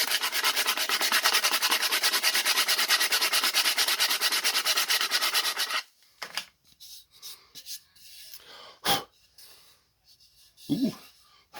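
Steady back-and-forth rasping of sandpaper on the cedar of a flute kit near its glue joint, continuous and close for several seconds, then stopping, followed by quieter handling noises and a brief voice.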